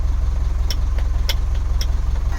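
A Mitsubishi 4P10 fully electronic engine idles with a steady low rumble, close and continuous, while a few faint clicks or light metallic taps sound over it.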